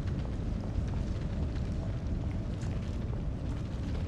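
Grenade blast in the video game Blackout Protocol, a dense continuous rumbling roar that stays loud and even throughout, with no talk over it.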